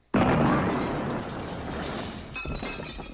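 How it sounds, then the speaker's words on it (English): A sudden loud blast erupts, followed by a long rumbling, crackling decay with scattered debris-like clatter as it fades. "An earth-shattering kaboom explosion."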